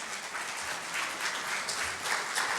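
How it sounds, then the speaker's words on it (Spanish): A church congregation gives applause during a sermon service, a soft, diffuse wash of many hands clapping at a distance, steady and fairly quiet with no voices. "Denle una ofrenda de palmas a nuestro Dios"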